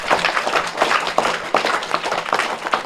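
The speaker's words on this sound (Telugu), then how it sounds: "గట్టిగా క్లాప్స్ కొడతాం" An audience at a meditation session clapping together, a dense, steady patter of many hands close by, with no voices.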